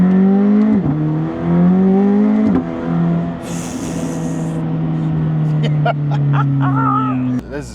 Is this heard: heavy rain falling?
no